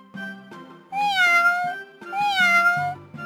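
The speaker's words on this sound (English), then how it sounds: "The kitten was still there, under some bushes by the house." A kitten meows twice, close and clear, each a drawn-out, slightly falling call with a short pause between, and nothing else around it.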